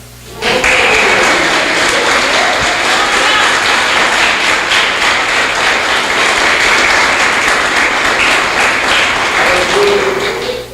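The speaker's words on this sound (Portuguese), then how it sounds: "Eu acho que esse momento merecia um aplauso." Loud, dense applause from a church congregation at a revival seminar, sustained evenly for about ten seconds with no talk over it.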